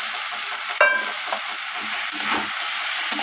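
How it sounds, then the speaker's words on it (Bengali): Fried potatoes and taro root being stirred into lentils in a hot pan give a steady, close sizzle, with a brief clatter of ingredients or a spoon just under a second in. "এরপর আমার ভেজে রাখা আলু আর গুঁড়ি কচুগুলোকে আমি এর মধ্যে দিয়ে দিলাম।"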